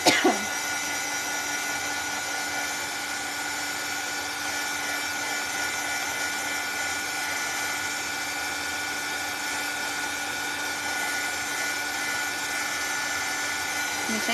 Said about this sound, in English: And then I'll hit it with the dryer real quick.